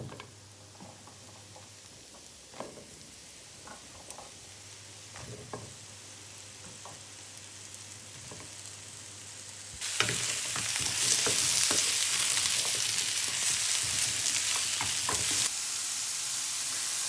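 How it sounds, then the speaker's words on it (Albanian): Mixed vegetables thrown into a hot pan, giving a soft background hiss that jumps into a loud, steady sizzle partway through and then settles a little, with scattered ticks and stirring clatter. "Përgatitja fillon me një tigan të nxehtë dhe do t'i hedhim të gjitha brenda t'i japim një skuqje."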